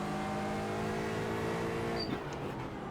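GT4 race cars in the iRacing simulator, engines droning steadily in a dense field through a slow corner, with a faint tyre scrub near the end; no talking.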